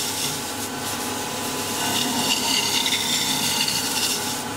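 A chisel cuts steadily into spinning wood on a lathe while turning a sword part, giving a continuous rough scraping, rasping whir that swells slightly midway and stays close and fairly loud throughout.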